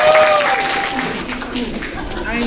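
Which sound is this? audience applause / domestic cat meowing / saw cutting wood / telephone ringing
audience applause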